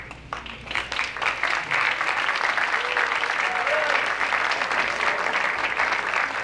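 Steady, full applause from an audience at a school athletic awards assembly, building quickly after a brief softer start and continuing as a dense, even wash of clapping with some crowd noise.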